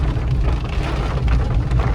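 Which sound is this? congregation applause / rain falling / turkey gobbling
rain falling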